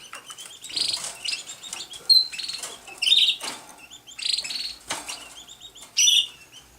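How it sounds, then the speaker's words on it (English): A small caged canary gives bright, high cheeps and short chirps in quick, uneven bursts, close by, over a soft rustling background. "Hear that little cheep,"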